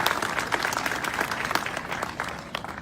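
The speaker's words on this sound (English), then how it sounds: "quick round of applause for everything that all those airmen have been doing" A brief, dense round of clapping from a crowd honouring Air National Guard airmen at a 115th Fighter Wing 70th anniversary gathering at Wisconsin Brewing, steady and close throughout.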